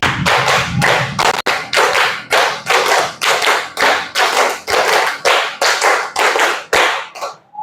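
Hands clap sharply in a steady, even rhythm, about twenty loud claps in a row, the way a primary school class claps in groups of five. No one speaks over them.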